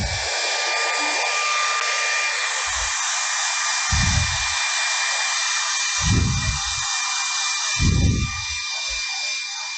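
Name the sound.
blow dryer running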